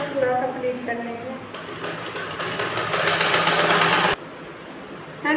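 An electric sewing machine stitches both sides of a Madhubala-design blouse. It runs in one steady whirring burst of about two and a half seconds mid-clip, with a person talking before it starts.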